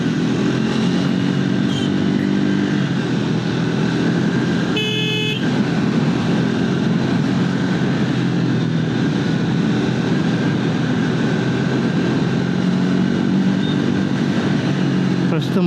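Triumph Speed 400 motorcycle with a 400 cc engine on the move, a continuous engine drone and road and wind roar throughout, with a short horn-like tone partway through.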